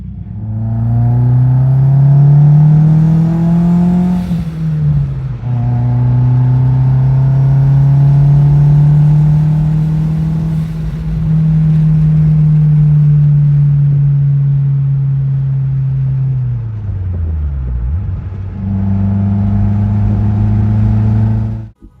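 A car with a stock engine fitted with a big turbo, on its first drive on the road, drones loudly and steadily, its engine tone rising and falling through gear changes, with a brief dip near the end.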